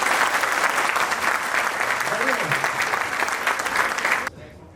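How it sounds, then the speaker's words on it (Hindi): Loud, dense applause from a gathered crowd at a company meeting, steady for about four seconds, then cutting off abruptly into a quiet room. "ताली बजाएं।"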